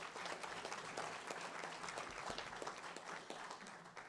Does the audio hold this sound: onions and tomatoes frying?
no